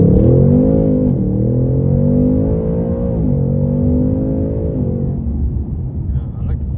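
A 2022 Ford Mustang Mach 1 V8 engine pulls under acceleration from inside the cabin, a steady loud rumble with rising harmonic sweeps as it climbs through gears, easing off toward the end.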